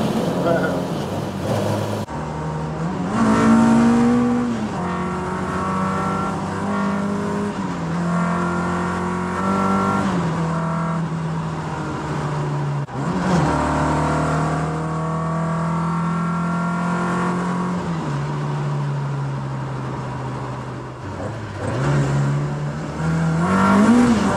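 A car with raised suspension drives on the way to a car show, its engine droning and rising in pitch through repeated acceleration and gear changes, loud and close for a long stretch.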